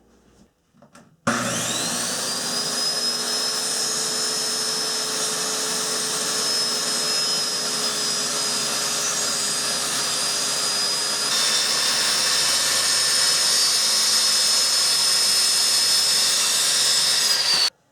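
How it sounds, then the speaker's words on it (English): Circular saw cutting through wall studs during a bathroom window installation, one long continuous high whine running steadily for about sixteen seconds, loud and close, with no talk. "So I'm going to go ahead and start making my cut here using the circular saw."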